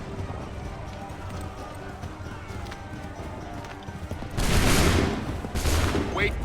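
Musket volley gunfire in the video game Assassin's Creed III erupts as a loud broadband burst late in the sequence, followed by a second volley, over continuous battlefield noise with galloping horses and shouted voices.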